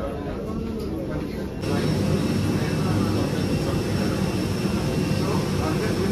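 An Airbus airliner's jet engines drone steadily while passengers board through a jet bridge at Hyderabad. The roar is muffled at first, then grows louder and fuller after about a second and a half and holds steady.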